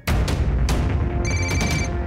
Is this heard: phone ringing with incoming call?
yes